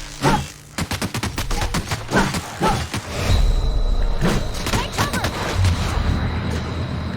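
Gunfire in The Outer Worlds on Switch: a burst of sharp, loud shots in a quick uneven rhythm, followed by a denser rumble of firing with a steady mechanical tone. Someone speaks over parts of it.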